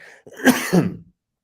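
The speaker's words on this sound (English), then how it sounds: "I'm going to cough again." A single close, raspy cough, short and sharp, followed by silence.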